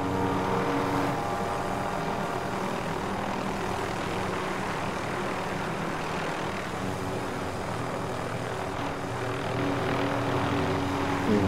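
Helicopter flying overhead in Verdansk, Call of Duty: a steady droning engine and rotor hum, fairly loud and constant throughout, with no talk.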